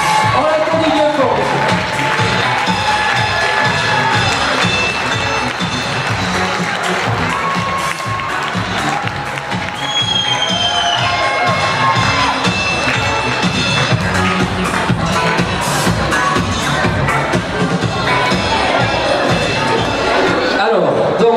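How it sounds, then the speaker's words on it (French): A crowd at a 2019 village festival queen election in Aire claps and cheers loudly for a candidate, with shouts and children's voices rising through sustained, dense applause. "On l'applaudit bien fort."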